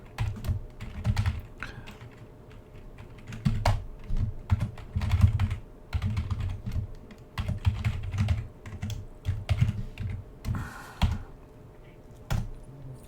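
Someone types on a computer keyboard while building an Angular app. The keys clack in quick irregular bursts with short pauses between, close and fairly quiet over a faint steady hum.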